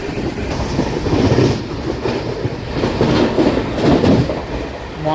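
An Intercity Superfast Express train running at its top speed of 133, with a continuous loud rumble and rhythmic clickety-clack of wheels heard from inside the carriage, steady throughout with no speech.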